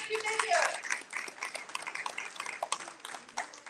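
A small gathering bursts into a round of applause for a group being celebrated, steady clapping from several people close by with voices mixed in underneath.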